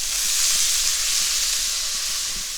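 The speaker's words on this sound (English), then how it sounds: "Now I'm going to add half of a big onion, really well chopped. I'm going to cook it for a minute till nice and fragrant." Chopped onion frying in a hot pan, a steady loud sizzling hiss close up that eases slightly toward the end, with no talking.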